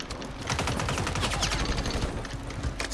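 Rapid automatic gunfire from a weapon in the video game Warzone, a steady, dense stream of shots rattling continuously for about three seconds at moderate volume, with no talking over it.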